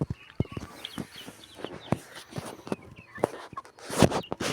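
Backyard hens cluck in short, uneven bursts close by, with a few louder squawks and light scratching between calls.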